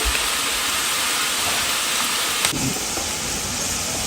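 Batches of okra (bhindi) frying crisp in hot oil, a steady broadband hiss and crackle that holds evenly throughout, with a brief clatter partway through.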